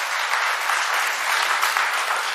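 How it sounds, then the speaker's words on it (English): A conference audience applauds to welcome the spouses of Caribbean chief justices to the Bahamas at an opening ceremony, dense, even, continuous clapping throughout. "Please give them a round of applause and welcome them to the Bahamas."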